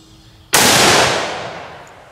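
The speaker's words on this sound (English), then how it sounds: "So let's just shoot these real quick." .30-06 rifle firing a Federal cartridge, a single sharp loud report that cracks suddenly and then decays over about a second and a half, heard alone with no talk.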